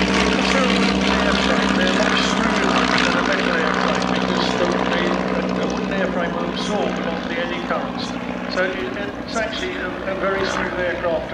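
A pair of Stampe SV4C biplanes fly a display at the Shuttleworth vintage airshow, their propeller engines droning steadily overhead, with a commentator talking over the sound throughout.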